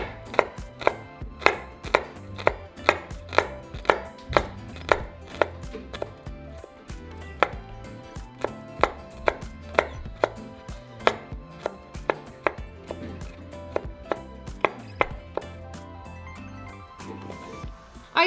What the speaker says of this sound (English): For our garlic, we're just going to mince it.